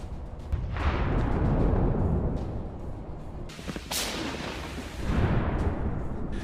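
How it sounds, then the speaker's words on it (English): Ammunition detonating inside a destroyed Russian APC, heard as a rolling series of heavy booms and sharp cracks with rushing, whooshing bursts, loud and distant-sounding across the whole stretch. "The ammunition detonates."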